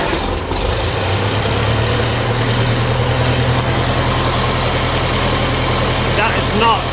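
A 1957 Ferguson FE35 tractor with a TVO engine cranks and catches, then settles into a steady, loud, throbbing idle that runs without a break.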